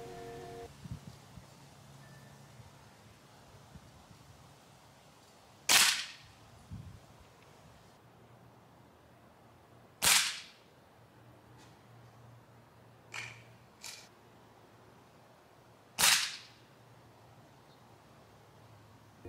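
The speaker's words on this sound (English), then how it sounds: "The pellet gun will make a noise, but you will not hear anything from the trap itself." An air pellet rifle fires into a backyard cardboard target trap outdoors, with four or five sharp, isolated cracks spaced several seconds apart over quiet background.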